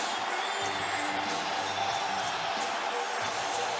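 A huge wrestling crowd roars at the United Center, dense continuous cheering and whooping at a constant loud level with no pauses, no clear voice standing out above the noise.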